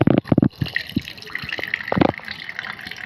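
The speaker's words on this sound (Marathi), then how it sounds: "आता एका कपड्यात मी सर्व भाज्या टाकून पिळून घेणार आहे म्हणजे सर्व पाणी निघून जाईल" Water wrung out of chopped vegetables wrapped in a cloth, a few sharp splashing gushes and drips close up, then softer trickling and a final burst of dripping.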